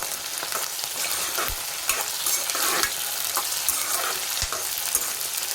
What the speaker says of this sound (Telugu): మిర్చి అయితే ఇలా మంచిగా వేసుకోవాలి ఆయిల్లో